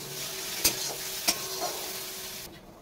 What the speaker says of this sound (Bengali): দেখুন ওটা নেড়ে চেড়ে শুকনো করে করে ভেজে নিতে হবে বাটাটাকে